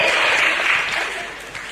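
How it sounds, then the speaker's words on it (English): Attendees at a university law faculty student colloquium clap together in a brief, close round of applause that fades toward the end. "Let's give applause again for Mrs. Zoom."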